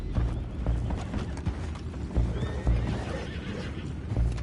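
Horses whinny and neigh while hooves clip-clop steadily in a Red Dead Redemption 2 game scene, with the sounds close and busy throughout.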